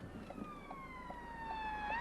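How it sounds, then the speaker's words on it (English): A police car siren wails during a driving-test route on a road near a junction, its steady rising and falling tone growing slightly louder over about two seconds as it approaches, over the low rumble of the car interior. "there's a police car coming"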